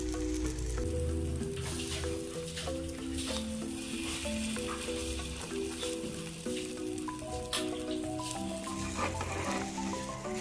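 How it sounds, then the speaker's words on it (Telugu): An egg-and-bread omelette fries on a pan as it is browned on both sides, a soft, steady sizzle heard fairly quietly beneath background music. "రెండు సైడ్లు ఇలా మంచిగా కాల్చుకోవాలి"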